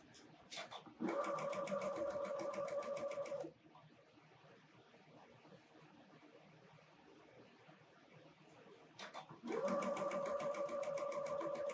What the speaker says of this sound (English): And we're going to sew those together.